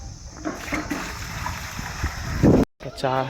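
Steady rushing and splashing water fills the clip, with a louder gush near the end before a brief cutoff; a voice speaks over it.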